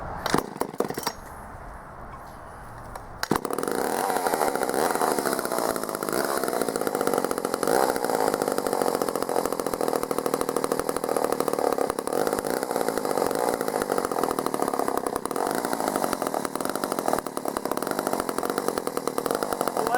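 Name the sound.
vintage Poulan 306A chainsaw running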